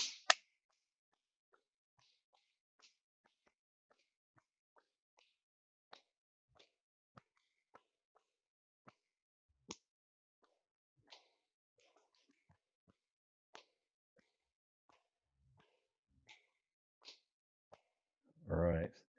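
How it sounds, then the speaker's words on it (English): Sparse, sharp hand claps land at irregular intervals during a qigong session, quiet and isolated with long gaps between them, then a louder burst of rubbing or clapping near the end. "So clapping at random intervals,"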